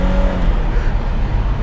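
A turbocharged Jaguar XJ220 supercar from the 1990s accelerating, heard from inside as a loud, steady engine roar with a rising harmonic early on and no talk.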